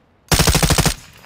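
Machine gun fire in the video game Call of Duty: Modern Warfare II: a single loud, close burst of rapid automatic shots lasting under a second, heard alone.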